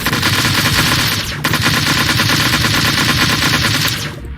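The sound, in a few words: gunfire in the Flight Force 4 video game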